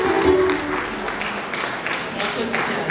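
An audience claps together at a year-end 2024 church concert in Kabuga, with applause heard under a voice talking, loudest at the start and then settling into a steady patter.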